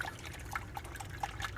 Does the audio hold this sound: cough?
no